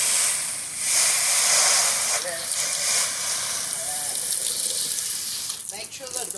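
Steady, loud hiss of a 5.5 gpm pressure washer spraying water runs the whole time, with a brief surge near the start and faint clatter toward the end.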